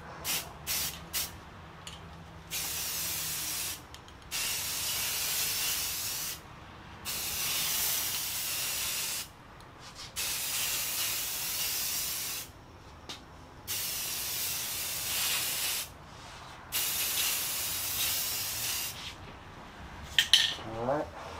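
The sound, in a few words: spray painting a second coat on Vstar 1300 fairing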